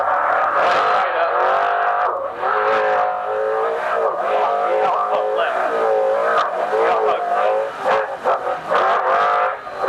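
A loud trophy truck racing engine roars continuously from inside the vehicle during a Baja 500 off-road race, its pitch rising and falling as it revs through gear changes.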